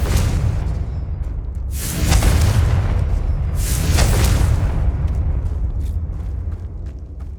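Confringo blasting spell explosions in Hogwarts Legacy during a final boss fight: two or three deep booming bursts with whooshing tails over a low rumbling game soundtrack.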